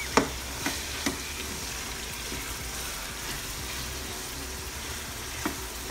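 Ground pork frying in a pan with garlic and onion, a continuous loud sizzle close by, with a few sharp knocks of a utensil against the pan near the start and end.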